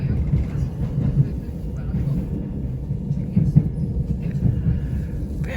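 A Southern Class 377 Electrostar electric train runs between Hove and Preston Park, heard from on board as a steady, deep rumble with faint rattles and occasional clicks.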